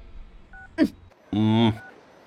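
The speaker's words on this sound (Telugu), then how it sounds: "ఇదిగో లాయర్ ఫోన్ చేస్తున్నాడు" A short electronic phone ring sounds once, loud and buzzy, after a brief vocal sound.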